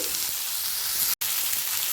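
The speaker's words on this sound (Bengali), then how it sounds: "আলুটাকেও এক মিনিট পেঁয়াজ লঙ্কার সাথে ভেজে নেব" Potatoes frying with onion and green chili in a pan over a medium-high flame give a steady, close sizzle that runs throughout with one brief dropout.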